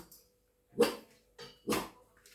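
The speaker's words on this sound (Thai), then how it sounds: "อุ้ยเสียงเห่า" A dog barks three times at close range, short sharp barks spaced irregularly against a quiet room.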